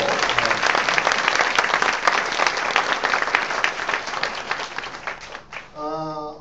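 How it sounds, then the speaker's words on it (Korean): A talk-show audience bursts into encouraging applause, dense and loud clapping that tapers off toward the end, followed by a brief tonal sound as it fades. "좀 이럴 때 격려의 박수도 좀 보내주시고."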